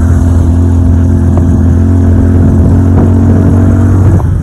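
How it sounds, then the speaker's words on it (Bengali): Loud, steady drone of a Bajaj Pulsar 125 motorcycle engine labouring up a steep mountain slope on a road toward Nathu La, a continuous hard-working hum with a few small rises, close and without talk. "কিন্তু গাড়ি প্রচুর আওয়াজ করছে, কিন্তু খুব ভালো যাচ্ছে।"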